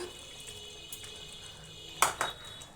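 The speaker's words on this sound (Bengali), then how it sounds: "বাটিটা ধুয়ে একটু জল দিয়ে দিচ্ছি" A bowl is rinsed and water poured in at a kitchen sink, with a quiet hiss followed by two short splashing bursts of running water near the end.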